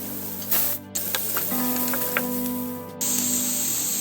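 Sliced onions hitting a hot pan of oil with fennel seeds, with a sudden loud sizzle at the drop followed by a steady, close frying hiss and a few clinks from the pan.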